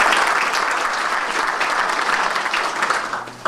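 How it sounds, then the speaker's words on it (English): Audience applause at a Portsmouth town commemoration honoring a longtime history teacher, loud sustained clapping from a crowd filling the whole few seconds, steady and close, with no speech. "deserves a round of applause"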